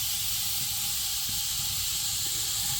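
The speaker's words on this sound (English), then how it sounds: "the time has come to drop this steak on in" A thick steak sears in a hot pan, giving a loud, continuous, close hiss that stays steady from start to finish, with faint low rumbles underneath and no voices.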